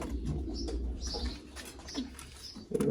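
Pigeons coo softly in low, throaty murmurs, with faint chirps and rustling nearby in a quiet setting, a slightly louder coo closing it out.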